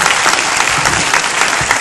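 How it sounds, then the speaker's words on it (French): A cinema crowd at a film preview in Marseille applauds loudly and densely, a close, sustained wash of many clapping hands. "Emmanuel, sous vos applaudissements."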